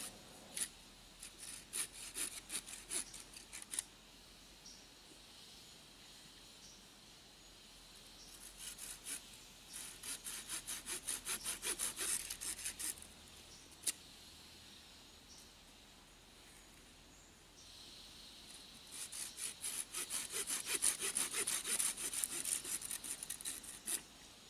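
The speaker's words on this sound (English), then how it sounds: "I will now cut three pieces, approximately 6 inches or 15 centimeters long." A small saw cuts a piece of wood into three short pieces for stakes outdoors, with quiet rhythmic rasping strokes in several separate bursts and pauses between them.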